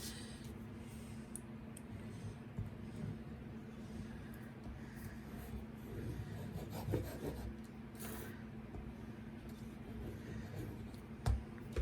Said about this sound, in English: I'm going to give that a good rub.